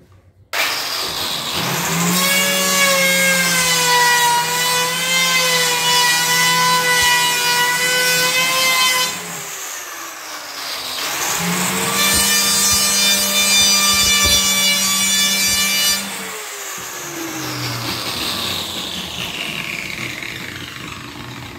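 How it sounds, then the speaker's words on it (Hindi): A router machine cuts an aluminium composite panel with a loud, high motor whine in two long passes separated by a short dip, then a quieter tail, with no voices. "मैं अभी राउटर मशीन इसके ऊपर चला रहा हूँ"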